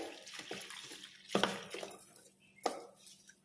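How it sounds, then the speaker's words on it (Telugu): Water poured into a bowl of oats, onion and rava dosa batter, giving soft, close splashes and a couple of brief sloshing bursts against a quiet kitchen background. "ఇదంతా కూడా మిక్స్ చేసుకొని ఇప్పుడు వాటర్ పోసుకోవాలి"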